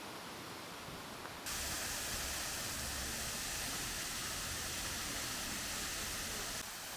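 A waterfall in Nice, France, throws off spraying mist as a steady, close, loud rushing hiss that swells suddenly after a moment and then stays constant.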